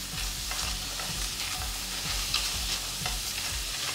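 Vegan meatball ingredients sear in a dry pan without fat, giving a steady, close sizzle with regular scraping stirs of a spoon about every half second and no talking.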